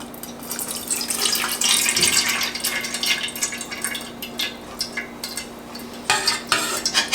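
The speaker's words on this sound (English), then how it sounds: "I'm going to take my spoon and squash it through" A metal spoon presses and squashes rehydrated elderberries through a kitchen strainer, wet squelching and scraping strokes with clinks against the mesh, close and uneven, alone with no talk.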